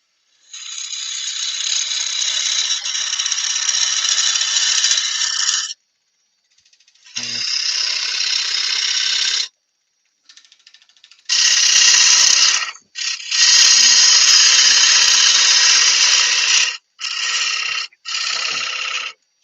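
Dry oak wood spinning on a lathe under a cutting tool, a loud steady buzzing scrape in long sustained runs broken by brief pauses as the tool lifts off.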